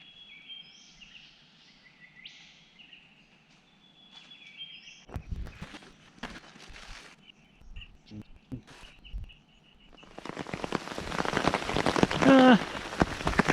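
Rain patters on a surface on the Bibbulmun Track between Pemberton and Northcliffe, light and scattered at first with birdsong, then swelling into a dense, steady downpour near the end.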